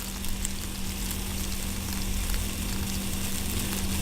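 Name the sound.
einkorn pancake batter sizzling on ghee-greased griddle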